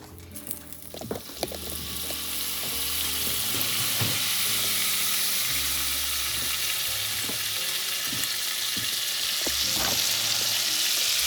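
Butter melting in a pan that was already used for cooking chicken, on a stove set between medium and medium-low, crackling and spitting close up, then settling into a steady dense sizzle with occasional utensil clinks.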